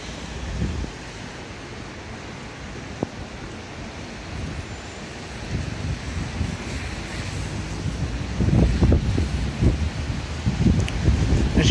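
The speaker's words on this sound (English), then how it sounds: "we're 26-mile-an-hour winds and just solid rain" Strong wind and solid rain buffet the microphone outdoors in winter weather, a steady broadband roar that grows louder and gustier toward the end, with low rumbling bursts and no talk.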